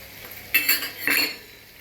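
A spoon scrapes and clinks twice against a pan while stirring green chillies and curry leaves for atukula (flattened rice), two short metallic strokes with no talk.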